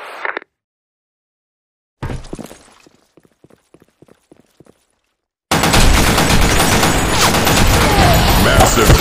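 Counter-Strike gunfire on the Office map: a short burst, then a string of sharp single shots, then a loud, dense stretch of continuous firing to the end.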